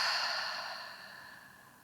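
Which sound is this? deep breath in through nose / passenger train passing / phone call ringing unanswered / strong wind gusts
deep breath in through nose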